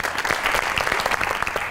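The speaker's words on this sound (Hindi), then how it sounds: "ताली होनी चाहिए" Studio audience applause on a Pakistani comedy talk show, dense steady clapping at full volume throughout, with no voices over it.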